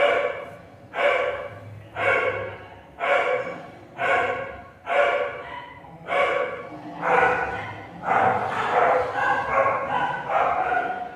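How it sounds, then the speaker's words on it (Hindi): Dogs bark in a steady series of about eleven loud, close yelps spaced roughly a second apart, each one clear and harmonic, with no talk over them. "ये थोड़ा कुत्ते भौंक रहे थे"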